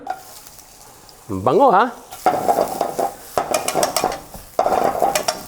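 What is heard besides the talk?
onion frying in sesame oil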